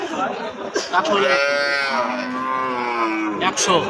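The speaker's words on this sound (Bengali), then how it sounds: "100 হইলে চাচা গাভী সহ বাচ্চা গরুটি বিক্রি করবেন।" A cow with her calf lets out a long, close moo at the Aftabganj cattle market in Nawabganj, Dinajpur. Brief murmurs of people talking nearby come before and after the call.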